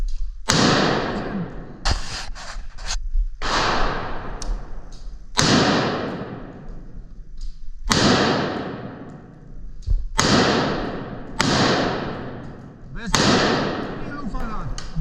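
Loud gunshots ring out one at a time at a slow, steady pace, each sharp crack trailing off into a long echo.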